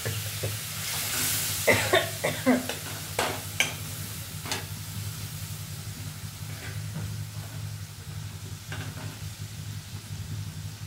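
Spice paste with tomato fries in a pan for a Bengali fish-head chochori, crackling with a soft, steady sizzle while a spoon scrapes and stirs in a few distinct clacks early on, then settles into quiet frying.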